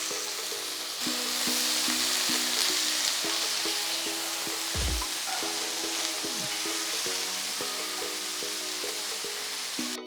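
Eggplant pieces frying and sizzling in a pan after peanuts are fried, for Tamil-style eggplant rice, with a continuous hiss and periodic stirring clinks and scrapes, close by and steady.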